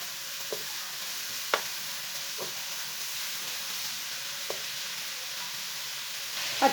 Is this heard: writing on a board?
no